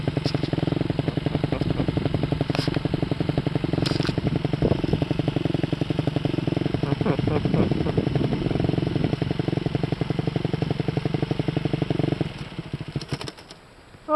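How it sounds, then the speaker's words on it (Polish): Motorcycle engine running upside down and seizing, a steady loud rattling idle with clatter and crackle, fading and sputtering toward the end as it dies. "Motor chodzi do góry nogami i zaciera się!"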